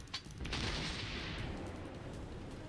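Battleship main guns firing in the naval game World of Warships Blitz, a sharp report followed by a long rumbling roar that fades slowly.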